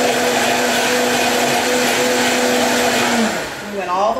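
A blender runs on high, whirring through homemade milk kefir with a loud, steady motor roar close by. Near the end the pitch drops and wavers as it slows.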